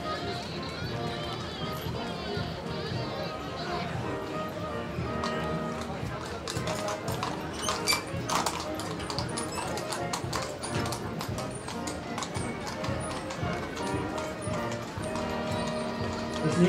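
Horses' hooves clip-clop steadily on pavement pulling wagons in a festival parade for Schwerin's 850th anniversary amid a murmuring crowd, with a voice speaking over the continuous clatter.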